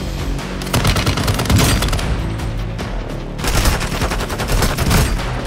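Continuous light machine gun fire in the shooter game Warzone: dense, rapid bursts of loud automatic shots, a short pause near the middle, then another sustained volley close up.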